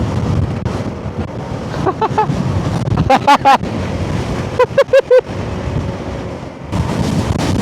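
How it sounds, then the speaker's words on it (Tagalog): Strong wind on a mountain backroad near falls roars and buffets the microphone in heavy gusts, with a few brief squeaky or vocal bursts in the middle. "Bakit ganun kalakas yung hangin dito?"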